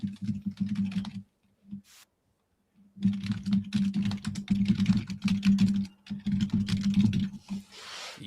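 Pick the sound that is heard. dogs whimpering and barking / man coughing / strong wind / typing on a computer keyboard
typing on a computer keyboard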